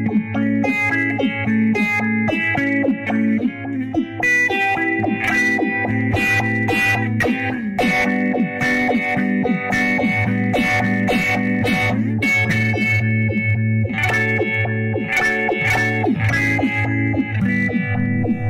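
An electric guitar runs through a phaser pedal with a choppy square-wave sweep, chords ringing and pulsing in an abrupt, stepped rhythm.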